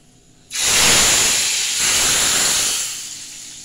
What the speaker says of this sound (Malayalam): അപ്പൊ നമുക്ക് വറുത്ത് വട്ടാം.